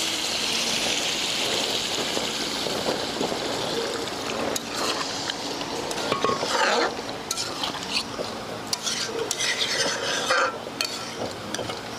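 A little water poured into a pot of village-style bamboo shoot and chicken curry, a running splash and bubbling stir with scraping utensil and pot clatter, continuous and close, without voices.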